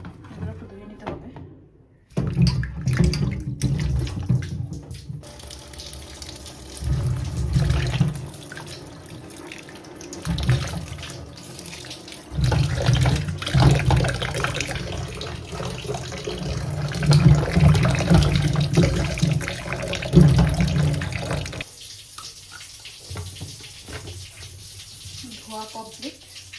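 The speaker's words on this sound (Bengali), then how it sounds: "আর এই হচ্ছে ম্যারিনেট করা মাংস, এগুলো একটু ধুয়ে নিতে হবে।" Marinated meat rinsed under a running tap, steady splashing water close by for about twenty seconds with brief pauses, then the flow stops; a voice is heard faintly under the water noise.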